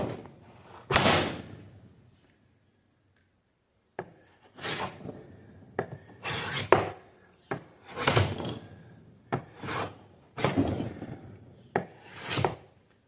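A hand plane taking slow strokes across interlocking-grain wood, several distinct rasping passes in an irregular rhythm with short pauses between them, close and fairly loud with no talking.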